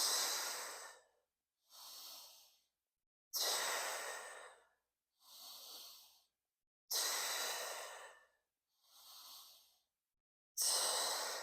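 Heavy rhythmic breathing during a Pilates mat exercise: loud, close breaths alternate long forceful exhales with shorter inhales, repeating steadily with silent gaps and no talking.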